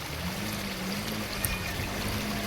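Rainwater rushes steadily across a flooded road during monsoon rain in Palghar, heard as a continuous broad wash with a low hum beneath it and no voices.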